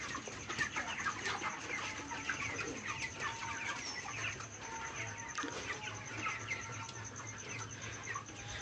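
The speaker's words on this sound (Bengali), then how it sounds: "এইগুলো হচ্ছে আমার পোলট্রি ফার্মের বড় মুরগিগুলো এই রুমে থাকে।" Large 27-day-old chickens in a poultry farm room cluck and call in a continuous overlapping chorus, moderately close, with a low hum of the shed underneath.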